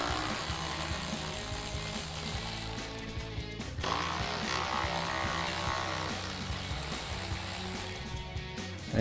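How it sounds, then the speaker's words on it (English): A hand ratchet clicks steadily while backing out two 10 mm bolts from the intake tube of a Jeep Wrangler JL 2.0L turbo, a fast, close, fairly quiet run of ticks with a brief pause partway through. "now we can remove our two 10 millimeter bolts from our intake tube"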